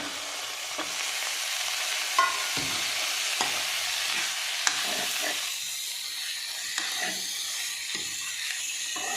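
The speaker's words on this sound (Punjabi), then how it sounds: "ਹੁਣ ਅਸੀਂ ਇਹਦੇ ਵਿੱਚ ਪਹਿਲਾਂ ਆਲੂ ਰਲਾਵਾਂਗੇ" Potatoes being stirred and fried with onions in a pan, a steady loud sizzle and hiss with repeated scraping strokes of the spoon throughout.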